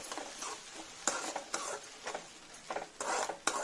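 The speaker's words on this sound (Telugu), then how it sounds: "ఇప్పుడు మంచిగా కలుపుకోవాలి." A spoon stirs a Manchurian sauce mixture with vinegar in a pan, giving soft scraping swirls broken by several crisp clinks against the metal, close and quiet with no talk.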